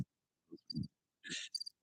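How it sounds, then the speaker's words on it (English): A soundboard cricket effect plays several short, quiet chirps in quick bursts, each a bright high trill over a low thump. "Give me the crickets too."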